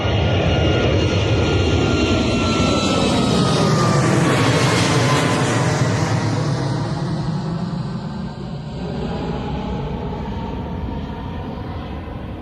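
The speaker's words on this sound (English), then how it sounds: "our D-rated takeoff from the Boeing 737" A TUI Boeing 737 jet roars on a reduced-power takeoff at Bristol Airport, loud and sustained, with engine whine sweeping in pitch as it passes close by and then fades slowly into a distant rumble.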